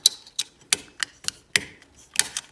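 A hollow plastic latch clip snaps into an aluminium profile on an Ender 3 Pro 3D printer, giving a string of about eight sharp, close clicks and snaps at an irregular rhythm, with no talking.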